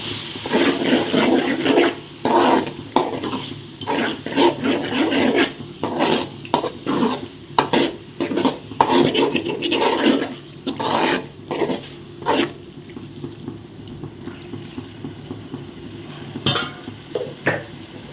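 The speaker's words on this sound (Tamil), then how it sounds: "கழுவி வச்சுருக்கிற ஈரலை வந்து இதில் போட்டுக்கலாம் இது வந்து நல்லா கிளறி விடுவோம்" Liver for a spicy gravy is stirred in a pan, making loud, rough scraping bursts in an uneven rhythm, busiest at first and thinning toward the end, with no talking.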